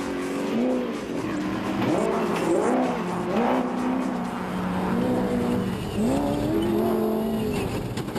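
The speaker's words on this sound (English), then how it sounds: "Woolridge closely followed by the BMW, who have now dropped from first to third." Rally cars, a BMW and a Ford, race over rocky terrain, their engines revving hard and shifting pitch repeatedly as they accelerate, close and loud throughout with no voices.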